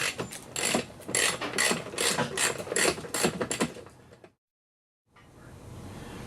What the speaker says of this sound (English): Up with the Allen socket.